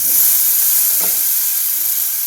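Spice mix and amaranth greens sizzle in a hot pan while being cooked into a tempered Indian dish, giving a steady, close frying hiss with a brief louder burst as the greens go in.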